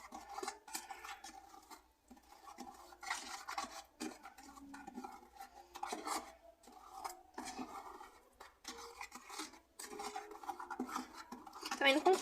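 Wall filler paste for patching small holes being stirred in a container, a quiet, repeated scraping and clinking of a tool against the sides, rhythmic and close, with someone talking over it.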